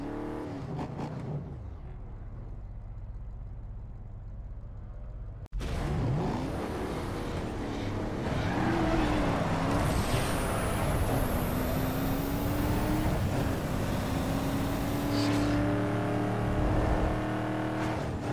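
A Lincoln Navigator with a 5.4L V8 and stage 3 turbo kit roars through a drag race in Need For Speed Underground 2, steady loud engine drone rising through gears after a brief quieter idle at the start.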